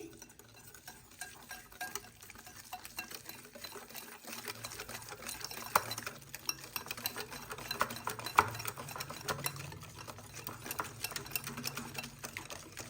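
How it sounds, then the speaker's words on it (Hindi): Whisk stirring yogurt and chicken tikka masala in a bowl, a steady rapid scraping and clinking that runs throughout at close range, fairly quiet, with no talk. "इन दोनों चीजों को मैं बहुत अच्छी तरह से विस्क की मदद से विस्क कर लूंगी"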